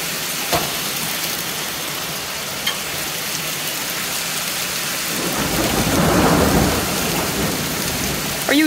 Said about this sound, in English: I swear to God, I heard thunder right here.